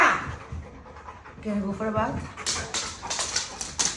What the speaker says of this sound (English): She's a big dog.